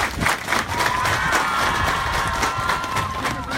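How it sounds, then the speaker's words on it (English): A small outdoor crowd at a dedication ceremony for an upgraded high school football field gives the team a round of applause, with scattered claps and cheers rippling at moderate distance. "If we can give them a round of applause."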